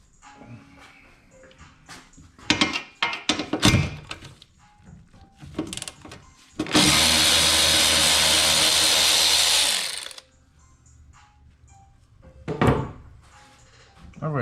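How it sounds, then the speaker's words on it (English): Loud ratchet on the alternator bracket bolts of a GM 3800 engine: a harsh, sustained ratcheting burst of about three seconds, surrounded by clanks, taps and tool handling, with someone talking in between. "My ratchet is loud."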